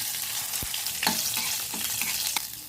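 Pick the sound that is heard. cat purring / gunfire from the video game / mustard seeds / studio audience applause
mustard seeds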